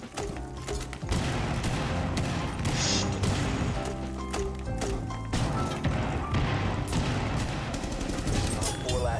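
Rapid gunfire in Rainbow Six Siege, dense bursts of loud shots and sharp impacts hammering almost continuously after a brief opening, with mechanical clatter between volleys and a player's voice talking over the action.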